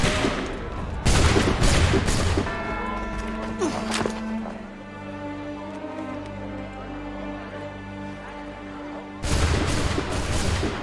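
Musket volley from Assassin's Creed III: a loud burst of massed gunfire at the start, then a long quieter stretch of game ambience, with a second heavy volley crashing in near the end.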